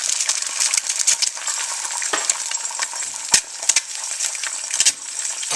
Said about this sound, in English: So I just crack the egg and then right straight into the pan.